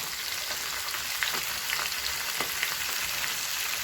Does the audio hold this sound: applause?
no